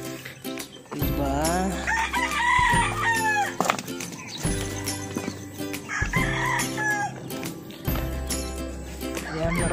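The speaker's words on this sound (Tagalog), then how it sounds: "Ito ang ating black chicken." Chickens clucking on a farm as a rooster crows loudly twice, with other fowl noises, a dog barking and a person talking in the background.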